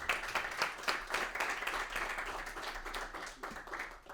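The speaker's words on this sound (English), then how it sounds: "please a round of applause for the three guests that we have here today" An audience applauds steadily, a dense patter of many hands clapping at moderate distance throughout.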